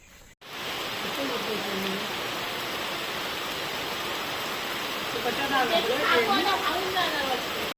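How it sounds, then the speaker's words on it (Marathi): Rain beginning to fall in a village, a broad steady wash of drops heard close, with people talking over it in places. "तर पावसाची झालेली आहे सुरुवात"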